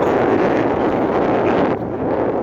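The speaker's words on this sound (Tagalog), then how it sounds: "Mahangin lang po." Steady rushing cold wind buffeting a microphone on a busy street, a loud rumbling roar that dips slightly near the end, with no voices.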